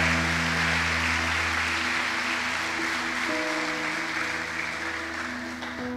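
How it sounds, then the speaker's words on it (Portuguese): Church congregation applauding steadily throughout, a dense wash of clapping under sustained tones from the sanctuary sound system. "Você pode dar uma salva de palmas para o Senhor?"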